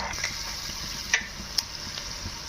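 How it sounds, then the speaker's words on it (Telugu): Mustard seeds, cumin and chana dal fry in hot oil, giving a soft steady sizzle with scattered small pops and ticks from the seeds. "ఆవాలు జీలకర్ర శనగపప్పు వేయించుకోవాలి"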